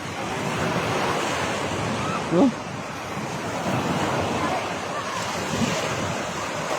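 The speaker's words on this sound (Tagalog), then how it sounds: "Lakas ng alon." Strong ocean surf rolls onto the beach at My An, Danang, Vietnam, a continuous heavy wash roaring with wind buffeting the microphone, and a brief exclamation from a person partway through.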